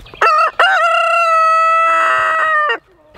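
Chickens on a small homestead, near and loud: two sharp clucks followed by a long, full rooster crow, with no talking.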